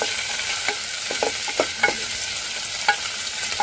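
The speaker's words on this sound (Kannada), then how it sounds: "ನೋಡಿ, ಈರುಳ್ಳಿ ಎಲ್ಲ ಮಾಗಿಸ್ಕೊಂಡು ಬಟಾಣಿ ಹಾಕಿದ್ದೀನಿ. ಅದು ಕೂಡ ಚೆನ್ನಾಗಿ ಬೇಯ್ತಾ ಇದೆ." Peas and softened onions frying in a pan for methi pulao, a steady sizzle broken by scattered scrapes and taps as a spoon stirs, close up with no voices.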